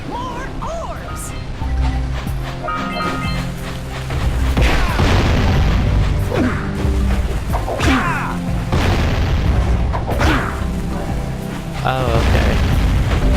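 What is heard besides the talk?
explosions in the video game Jak and Daxter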